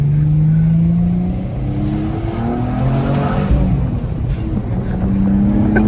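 A junkyard Nissan 350Z that sat for five years revs while pulling onto a main road, its engine note sweeping upward through the gears, loud and close from inside the car.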